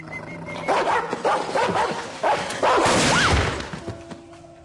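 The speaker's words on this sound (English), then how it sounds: "There's a dog." A friendly dog barks several times in close, loud bursts, with a few shorter yelps between them and no talking over it.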